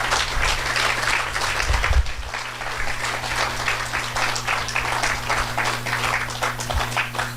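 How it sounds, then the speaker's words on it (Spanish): Sustained applause from a church congregation during a sermon, a steady dense patter of many hands holding at an even level throughout with a low steady hum underneath. "Denle otro fuerte aplauso a mi Señor."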